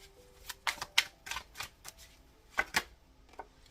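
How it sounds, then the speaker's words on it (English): Tarot cards being shuffled, a quiet sequence of crisp riffling and slapping bursts at uneven intervals, close by with no talking. "Clarify these cards, please. I'm gonna shuffle."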